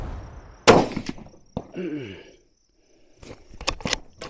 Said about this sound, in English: First shot, second shot.